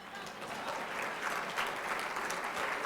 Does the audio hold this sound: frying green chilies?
no